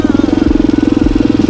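A motorcycle engine idles close by with a steady, rapid thumping pulse and a slight clatter, holding an even rhythm throughout.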